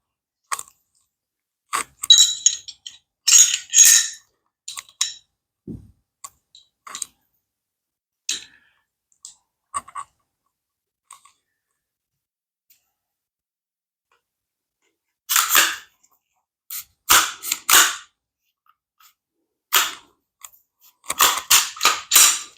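Metal parts of a Walther PPQ pistol clicking and snapping in short sharp bursts during reassembly after cleaning, close and crisp, separated by stretches of near silence.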